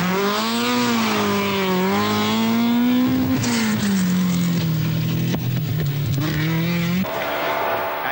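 A 1982 Vauxhall Chevette rally car on an RAC Rally stage, engine howling loud and close as it revs and shifts through gears, pitch rising and dropping, with a brief tire scrub near the end.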